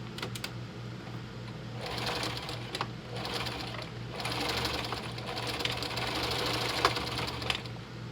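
A sewing machine runs close by, zigzag stitching back and forth over fabric in a steady rapid whirring patter, pausing briefly and restarting, with a low hum underneath.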